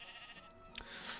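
A short sheep bleat from the Minecraft Pixelmon mod, a single wavering synthetic baa heard clearly on its own at moderate volume.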